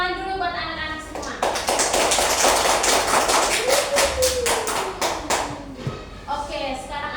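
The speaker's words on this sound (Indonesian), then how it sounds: "Kita tepuk tangan dulu buat anak-anak semua." Children in a classroom clap their hands together in a burst of quick, crisp claps lasting several seconds, with voices audible before and after.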